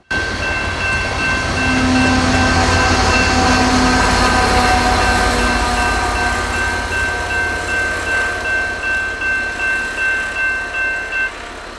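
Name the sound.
freight train locomotive passing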